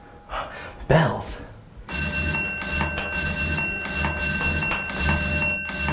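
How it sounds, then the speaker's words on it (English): After brief talk, a bright metallic ringing of bells starts up at a Christmas church gathering and sounds in repeated, pulsing bursts, loud and close, until the end. "Bells."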